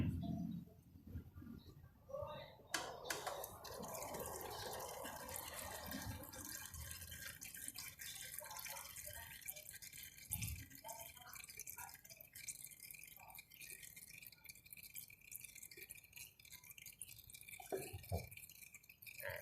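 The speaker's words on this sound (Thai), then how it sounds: "พอลูกศิษย์เอียงปุ๊บ น้ำมันมันไหลออกมาอีกนะครับ" Old engine oil drips and trickles out of a tilted Stallion Centaur 150 motorcycle, a faint, close patter of liquid with a few light rattles and occasional louder splashes.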